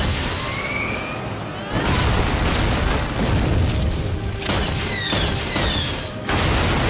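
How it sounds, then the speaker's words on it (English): A big explosion in the RWBY animated show comes as a dense, noisy roar of crashing blasts with whooshing debris. It rises in two surges and holds loud across the whole stretch. "That's a big explosion for Blake not to die."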